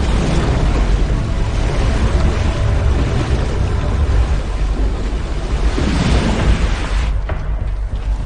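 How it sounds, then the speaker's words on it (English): A violent flash flood rushes down a dry river valley: a loud, constant roaring wash of water with windy, turbulent noise that surges slightly near the end. "Unable to soak into the earth, the water rushes into empty river valleys,"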